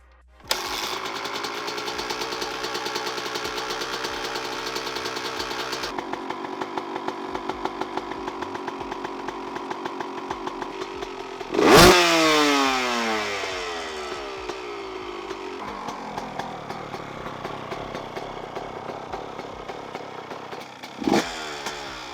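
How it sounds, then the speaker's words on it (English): A Honda CR125 two-stroke dirt bike engine idles with a buzzy, rapid ringing note, then revs sharply twice with loud rising blips before dropping back to idle. "I'm gonna see if the old 125 still runs."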